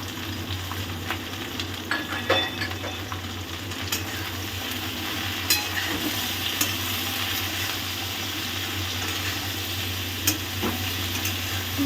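Turmeric and chili sizzle in hot oil in a pan while being stirred. A steady, close frying hiss runs throughout, broken by occasional soft scrapes and taps of the spoon.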